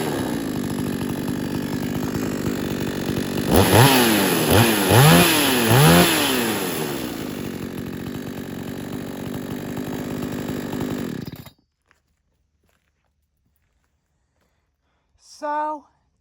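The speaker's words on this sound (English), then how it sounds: "This is something kind of like an old school chainsaws" A Stark 6200XP chainsaw with a 20 inch bar runs loudly at idle, revs up in several rising surges, settles back and then cuts off abruptly, leaving near silence before a brief voice speaks at the end.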